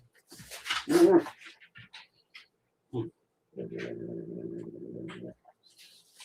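A big dog named Bubba moans and whimpers while its ears are rubbed, with a short burst of vocalising followed by a longer, steady low moan, close by and mostly alone.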